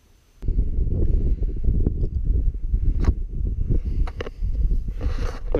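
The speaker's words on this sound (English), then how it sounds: "Well, the wind's got up." Loud, low wind buffets a nearby microphone in continuous gusty rumbles on a mountain summit in the Black Mountains, Wales, with occasional faint rustles and clicks; no one speaks.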